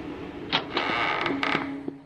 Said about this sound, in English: The door opens into a kitchen.